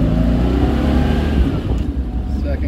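A 1973 Jaguar XKE pulls away in first gear, its engine droning loud and steady with a rising rev through the pull, close by from inside the car, easing slightly near the end.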